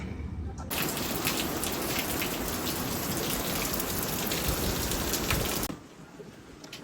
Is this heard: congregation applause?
no